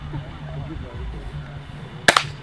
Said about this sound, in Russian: Так, заряжен. Три выстрела.